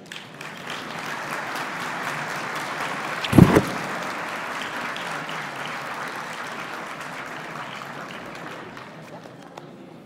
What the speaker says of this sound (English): Let's give another round of applause to Suellen Wilkinson for that testimonial.